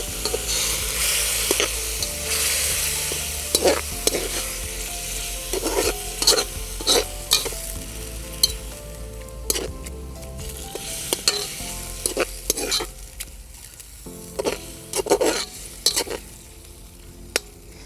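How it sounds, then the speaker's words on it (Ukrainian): Borscht base of beetroot with vinegar and water fries and sizzles in a cauldron over a fire as a utensil stirs it, with repeated scraping and clinking strokes against the metal at close range. "Так, Ретельно перемішуємо."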